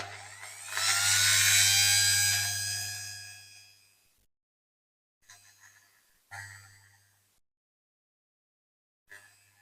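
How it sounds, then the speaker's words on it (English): A rotary multi-tool on its lowest setting works on a Dinky Toys Morris Oxford diecast toy car, whirring in a steady high whine for several seconds, then in a few short, fainter bursts close by. "I'll set my multi-tool on the lowest setting, and I'll just try and get in"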